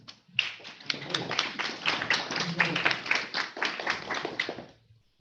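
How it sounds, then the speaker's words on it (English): A symposium audience claps steadily for several seconds, dense applause welcoming a speaker that swells and then fades out. "give round of applause"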